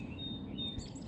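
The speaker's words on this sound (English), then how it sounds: "Y'all hear the birds chirping and stuff?" Birds chirping outdoors on a Sunday morning: a thin, high whistled call and a couple of brief tweets, faint over low background rumble, heard alone.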